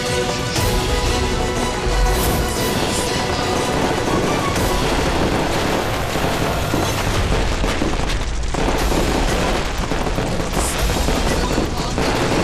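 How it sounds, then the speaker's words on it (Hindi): Firecrackers bursting at a funeral pyre, a dense continuous crackle of pops and booms that stays loud and steady without a break. "शालिनी, तुम्हारा सब पटाखा तो नीचे गिर रहा है।"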